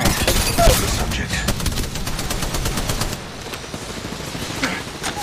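Rapid bursts of automatic gunfire in a first-person shooter video game, dense repeated shots and a few louder booms continuing steadily throughout with no talk.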